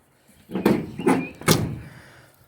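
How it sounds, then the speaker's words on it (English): A genuine Impala Super Sport glove box door on a rat rod is worked, giving three short hollow thunks a fraction of a second apart, close and fairly loud with no talking. "that is a genuine Impala Super Sport glove box door."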